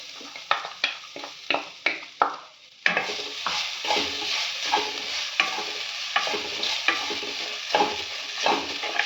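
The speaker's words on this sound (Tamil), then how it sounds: "இப்போ துருவி வச்சா தேங்காயும் வறுத்துக்கோங்க" Grated coconut roasts in a pan with coriander seeds and cinnamon for paneer sukka, a spatula scraping and stirring in repeated sharp strokes over a soft sizzle.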